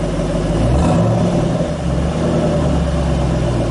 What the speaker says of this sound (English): Alright, go ahead and rev it a little bit.